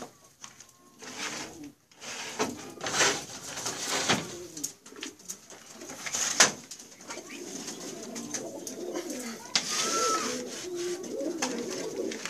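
Fancy pigeons coo in low, throaty murmurs close by, with rustling and light shuffling around them throughout.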